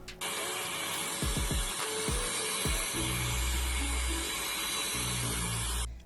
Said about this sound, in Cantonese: 首先噴水落你要清潔嘅範圍嗰度，撳實呢粒掣就得㗎啦，唔好放手。